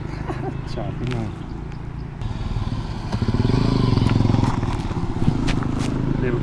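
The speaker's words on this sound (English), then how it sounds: "Little KTM Duke 200." A KTM Duke 200 motorcycle rides along a road, its engine droning steadily and growing louder midway, with wind noise and voices talking over it.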